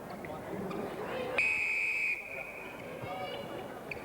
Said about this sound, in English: I'll blow the whistle first.